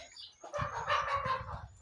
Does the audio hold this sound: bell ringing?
no